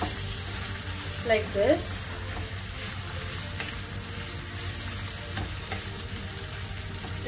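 An Afghani omelette sizzles and fries in a pan as it is pressed down, a steady crackling sizzle with a few louder scraping presses early on and brief speech over it.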